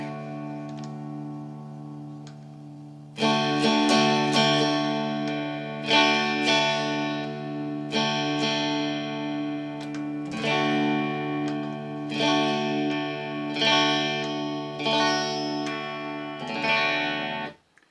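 A Tele-style electric guitar strummed in repeated ringing bursts, switching pickup positions from neck to middle to bridge so each pass has a slightly different tone, bright and close, no voices.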